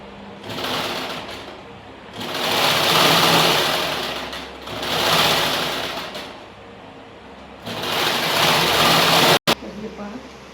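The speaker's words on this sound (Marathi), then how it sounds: "डबल टिप मारून घेते आम्ही." Sewing machine running in three long bursts while double-stitching the lining of a blouse, its steady whirring rising and falling with short pauses between runs and a sharp click near the end.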